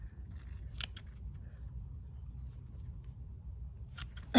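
Scissors snip off the lower stems and leaves of a Pink Accordion heirloom tomato plant before it goes into a raised bed. A few sharp close snips open the clip and another comes at the end, with quiet rustling between them.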